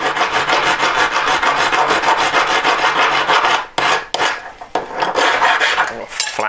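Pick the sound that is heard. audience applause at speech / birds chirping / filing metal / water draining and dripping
filing metal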